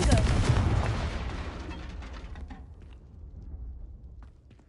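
The Confringo blasting spell from Hogwarts Legacy goes off as a loud, booming burst that rolls away and fades over several seconds into a quieter rumble.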